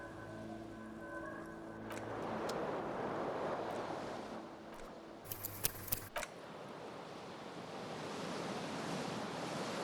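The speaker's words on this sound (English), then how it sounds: "The window stands broken in its frame. Cold wind blows in." In the video game Disco Elysium, cold wind blows in through a broken window: a soft, steady airy rush with a low hum and faint tonal layers, interrupted by a brief cluster of crisp clicks midway.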